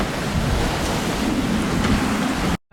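Strong wind and breaking waves roar steadily around a sailboat caught in a 26-knot squall near Montserrat in the Antilles, loud and continuous with heavy wind buffeting on the microphone, cutting off abruptly at the end.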